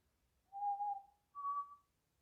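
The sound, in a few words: human whistling imitating a whistle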